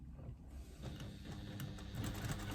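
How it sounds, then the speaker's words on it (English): A sewing machine runs a line of stitching across fabric joining a pouch, a steady close mechanical whirr with a faint rapid needle rhythm that starts after a brief quiet moment and grows slightly louder. "Now I'm going to do another line of stitching"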